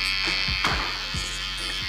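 Electric hair clippers, a trimmer with a large motor and no adjustment lever, buzz steadily and close up through a bald fade haircut, with a few faint knocks over the constant drone.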